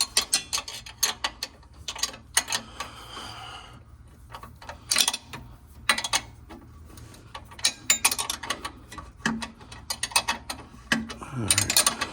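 Ratchet wrench loosening a rear shock mount bolt on a Buick Grand National, rapid clicking bursts in irregular runs with pauses and metallic clanks, close and clear.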